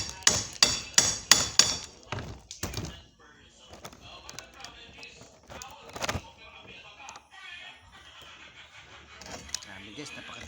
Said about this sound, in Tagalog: Martilyo at saka yung bara gamitin nyo guys.